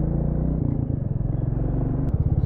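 A 2021 Royal Enfield Classic 350 motorcycle cruises along the road. Its low, thumping engine note pulses steadily and sits close and prominent throughout.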